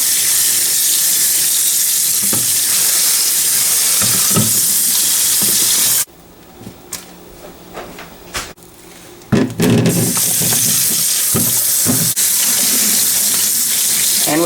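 A kitchen tap runs loudly and steadily over mushrooms and carrots being rinsed in a strainer, the flow briefly cutting off midway with some clattering handling before the water gushes again.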